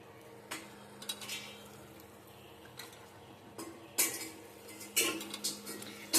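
Potatoes go into a hot pan and fry, with soft sizzling beneath a series of sharp scraping and clattering hits from stirring that grow louder and busier toward the end.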